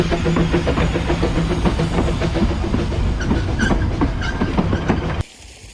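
A Ffestiniog Railway train rolls past close by on a bygones weekend, with loud continuous clickety-clack of wheels on rail joints and rumble, then cuts off abruptly.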